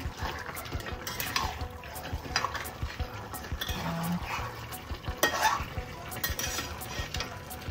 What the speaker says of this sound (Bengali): এখানে কিন্তু মাটন কষছে, প্রচুর তেল বেরোচ্ছে মাটন থেকে।